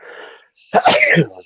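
A single sharp sneeze, close and loud, preceded by a brief faint breathy sound.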